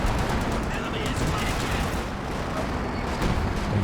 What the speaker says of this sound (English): Artillery coming down over there, it looks like.